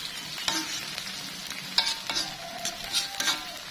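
Spice paste stir-fried in a pan, with soft scraping strokes and a light sizzle at close range, the stirring coming in irregular bursts and no one talking.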